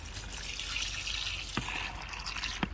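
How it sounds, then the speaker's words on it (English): A portable washing machine fills with cold water, giving a steady trickling, splashing stream throughout, with a couple of brief knocks near the end. "we're going to fill this up with cold water."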